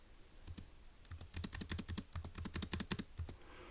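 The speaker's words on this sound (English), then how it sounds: "I will go ahead and type up" Quick bursts of clicks from a computer keyboard as a number is typed, close and fairly quiet, in uneven clusters of keystrokes with short pauses and no talking.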